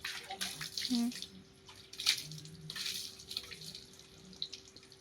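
Water splashes and trickles over a motorbike during washing, in intermittent gushes and drips, fairly faint, with brief background voices.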